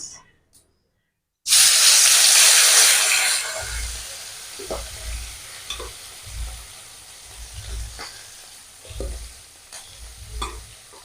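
Tangra fish dropped into hot spiced mustard oil in a home kitchen, bursting into a loud close sizzle that settles into steady frying with repeated scraping stirs and low thumps.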